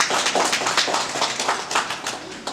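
Steady, dense applause from a seated crowd fills the room at a 2015 gallery opening ceremony, many hands clapping together close and loud without pause.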